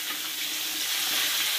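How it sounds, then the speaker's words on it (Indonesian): Mackerel sizzling as it fries in a pan, a loud, steady crackle and hiss that stays constant throughout, with no one talking. "kita goreng sampai dia mateng"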